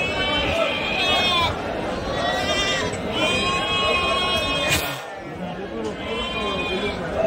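Goats and sheep bleat repeatedly at the Angallu Saturday livestock market, several animals calling close by over a constant crowd murmur with people talking.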